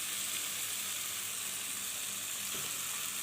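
Small kachki fish sizzle in hot oil with tomato, onion and spices, a steady, close hiss of frying that holds evenly throughout with no talking.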